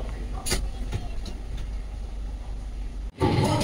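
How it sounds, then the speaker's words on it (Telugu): The Padmavathi Express rumbles as it starts to move, a low steady rolling noise with faint clatter. The rumble cuts out briefly, then returns louder near the end. "మన ట్రైన్ అయితే స్టార్ట్ అయింది,"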